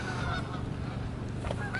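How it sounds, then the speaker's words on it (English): Canada geese honking outdoors, a brief cluster of nasal calls at a moderate distance over low background noise. "Canadian geese."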